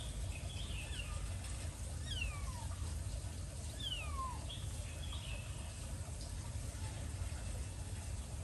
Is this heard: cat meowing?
yes